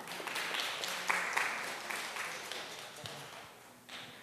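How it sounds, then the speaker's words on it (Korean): An audience at a tourism and culture forum applauds to welcome author Yang So-hee; moderate, fairly even clapping from a hall crowd, with faint background sounds. "양소희 작가님 박수로 환영해 주시기 바랍니다."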